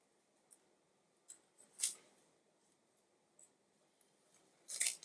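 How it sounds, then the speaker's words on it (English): Quiet, scattered snips of scissors cutting through paper or ribbon, a few crisp clicks spaced irregularly over faint room hiss. "If you're using scissors, just be careful that you're using them safely"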